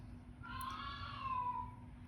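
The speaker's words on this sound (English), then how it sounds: "There goes the senile cat" An old, senile cat gives a single drawn-out, wavering meow, like a yell, heard faintly over a steady low background hum.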